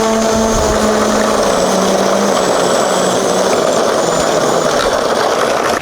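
Coaxial RC aircraft motors run at full throttle on a test setup, a loud steady whirring drone with layered propeller tones that holds constant throughout, with no speech.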